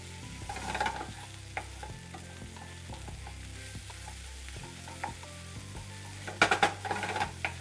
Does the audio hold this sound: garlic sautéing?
yes